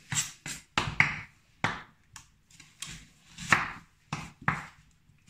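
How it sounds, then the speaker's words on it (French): A knife slicing onions on a cutting board for rougail saucisse, a string of crisp, separate chopping taps in an irregular rhythm, close and clear with no talking. "On va émincer les oignons."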